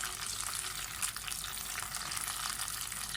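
Ginger garlic paste thinned with water goes into tomatoes frying in a pan for karela chicken. A quiet, even hiss of bubbling and sizzling runs continuously with no voices.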